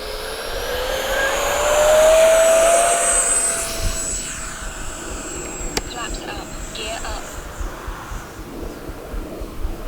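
A Freewing Hawk T1 RC jet in Red Arrows livery spooling up for takeoff, a steady whooshing ducted-fan whine that swells loudly, then settles into a continuous drone as the model flies away.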